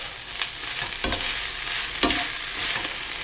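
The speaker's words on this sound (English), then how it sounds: "we'll drop in our minced beef and break that up" Minced beef sizzling in a pan with softened onion, a constant loud frying hiss broken by several scraping thuds as a utensil breaks up the meat.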